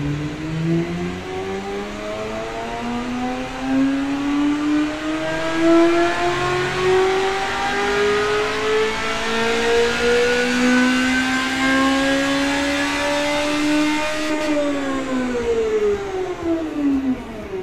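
A 626-horsepower race car engine in the Automation game, a 2015 build, revs in one long sustained climb, its pitch rising steadily before dropping off near the end, loud and continuous with no talk.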